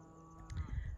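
A cow on an Alberta farm gives a short, low moo during a cattle drive across a highway. The call is faint and brief, with a steady tonal hum underneath it.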